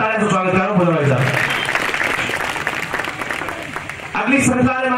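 Loud, dense applause from a seated audience welcoming a performer onto a stage at a community gathering, continuous clapping for several seconds with an announcer's voice over a microphone at the start and end.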